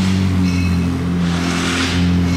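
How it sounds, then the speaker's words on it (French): A Ferrari 296 GTB drives past close by, its engine a loud steady tonal drone that swells and then fades, with no voices over it. "Comme ça vous comparez bien avec la 296 GTB qui vient de passer."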